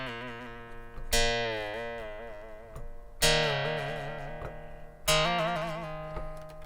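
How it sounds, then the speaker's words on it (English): Pluck v2 synth patch on a Korg Minilogue XD, with notes bent using the joystick: three bright plucked attacks about two seconds apart, each ringing out with wavering pitch bends as it decays, clear and without talk. "you can use the LFO to get vibrato effects, and you can also bend notes"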